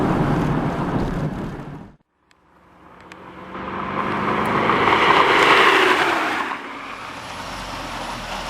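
A Corvette C5 Convertible's engine pulling hard under acceleration, a loud rising roar that breaks off briefly at a shift, then climbs again to a strong sustained peak before settling to a steady cruise, heard from inside the car with no talking.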